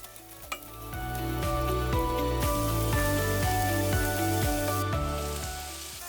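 Italian ground pork frying in olive oil in a cast iron pan, a steady loud sizzle with regular stirring scrapes throughout, no talk.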